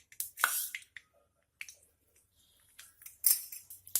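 Mustard seeds crackle in a spoonful of hot coconut oil, giving a few sharp, scattered pops and spits close by. Quiet gaps separate the bursts, and there is no talking.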